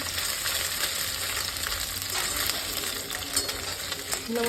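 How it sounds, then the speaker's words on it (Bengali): Small fish such as puti and morola frying in a wok, a steady close sizzle with faint clinks and stirring, continuous and without speech. "এদিকে আমি ওই ছোটো মাছগুলো ভেজে নিচ্ছি"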